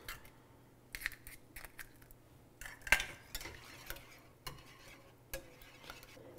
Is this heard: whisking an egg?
yes